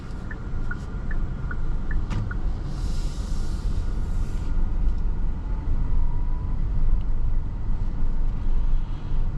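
Steady low road and motor rumble inside the cabin of a 2026 Kia EV9 GT-Line electric SUV accelerating, broadband and even throughout, with a few faint high chimes near the start and no talking.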